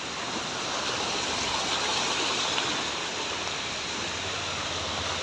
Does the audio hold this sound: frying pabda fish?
no